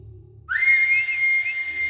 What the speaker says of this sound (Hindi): ऐसे बजती है सीटी।